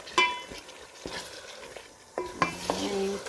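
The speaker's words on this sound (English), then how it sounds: "mixing well, we are going to add in water." A spoon stirs white pilau spices (pilau masala, ginger, cinnamon stick and bay leaf) frying in a pot, with soft scraping strokes, light sizzling and a few metallic clinks, close and fairly quiet.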